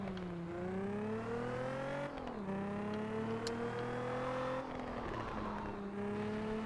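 Car engine in a racing video game drones with rising and falling revs through gear changes, a continuous synthetic whine heard alone.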